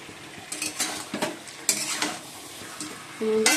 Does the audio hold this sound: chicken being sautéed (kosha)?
yes